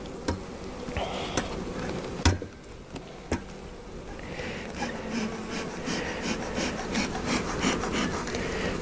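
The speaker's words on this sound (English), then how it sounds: "That's the third frame in and it's just covered with bees." Honey bees hum and buzz over hive frames as a steady drone, broken early by a few sharp wooden knocks and scrapes, with no speech.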